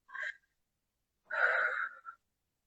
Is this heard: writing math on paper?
no